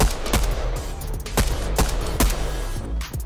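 SMG fire in a shooting video game, several sharp close shots in short spaced bursts over a low background hum.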